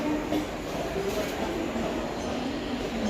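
Train at Dadar railway station in Mumbai, a steady low rumble and rolling noise with faint squeals and station din, moderately loud throughout.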